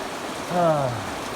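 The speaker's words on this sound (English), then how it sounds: "the rain's too heavy for that right now" Heavy rain pours down around a house and carport, a steady, dense hiss filling the whole clip, with a short voice rising briefly over it midway.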